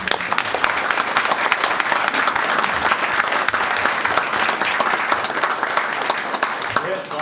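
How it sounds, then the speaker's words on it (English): Loud, sustained applause fills a city council chamber as the room claps for the men and women being honoured, a dense crowd roar with voices mixed in throughout. "let's give them a round of applause"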